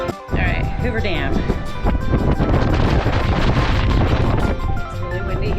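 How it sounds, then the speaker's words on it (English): Strong wind buffets the microphone at Hoover Dam, a loud, continuous roaring rumble that fills the whole stretch, with a person talking over it. "It's really windy here"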